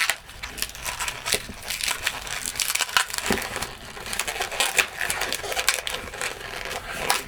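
A latex balloon being twisted into small pinch twists for a Spider Dude figure, with continuous squeaky rubbing and crinkling close up, steady and busy throughout.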